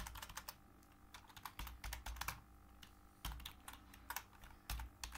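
Someone types a ping command on a computer keyboard at close range, a quick run of irregular clicky keystrokes with short pauses between bursts and no speech.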